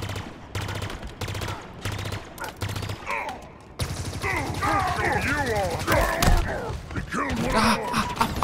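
Weapon fire in the video game Halo Infinite: rapid bursts of gunshots in the opening seconds, then chaotic combat with impacts and effects, under someone talking.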